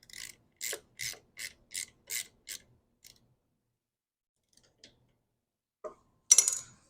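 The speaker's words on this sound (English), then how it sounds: "I'll go ahead and get a socket on this, 10mm socket. Tighten this guy up." A 10mm socket ratchet tightens a bolt on a Husqvarna HU700F mower with a GVC 160 engine, giving six quick, close clicking bursts in steady rhythm, then a few faint taps and a last sharp rasping burst.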